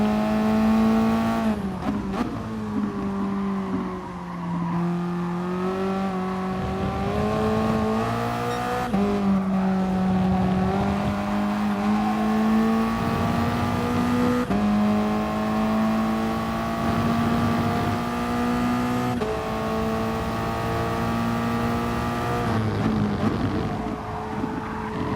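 Toyota race car engine in a racing game at Red Bull Ring, a loud continuous drone that rises and falls with repeated shifts and revs, heard alone from start to finish.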